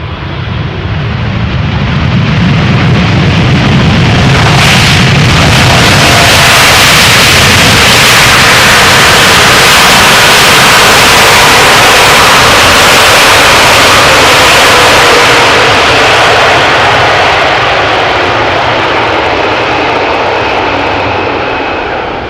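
An airliner arriving from Dallas-Fort Worth touches down at Amsterdam Schiphol, a very loud, close roar of engines and rushing air that swells and stays intense for the whole stretch before easing slightly at the end.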